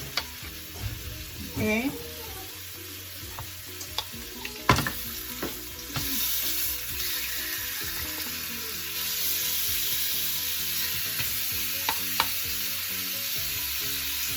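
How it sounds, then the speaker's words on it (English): Short rib meat fries in oil in a pot, giving a steady sizzle that swells and holds after a few clattering knocks early on. A voice speaks briefly at the start. "I'm going to fry off my meat"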